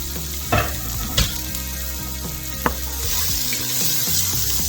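Onions sizzle steadily in a hot pan for pizza fries, a bright continuous frying hiss broken by a few sharp clinks of a utensil stirring, close and with no one talking.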